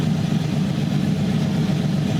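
A truck engine idles with a misfire after a VEVOR Truck Norris camshaft swap, a steady, loud, close rumble with an uneven, lumpy pulse.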